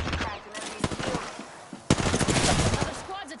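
Rapid automatic gunfire in the video game Apex Legends: dense, loud bursts of shots rattle continuously with a few sharper cracks, close and dominant, with a voice talking faintly beneath.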